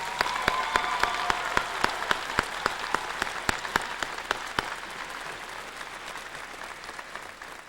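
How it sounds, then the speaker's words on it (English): Applause from the crowd at a 2002 high school graduation ceremony, a steady patter of many hands with sharp, evenly spaced loud claps from a nearby person standing out, tapering toward the end. "give them a round of applause because we will miss them."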